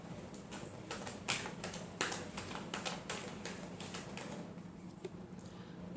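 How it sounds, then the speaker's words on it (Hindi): Tarot cards being shuffled by hand, a run of quick close papery taps and riffles in an uneven rhythm, fairly quiet. "Last shuffle."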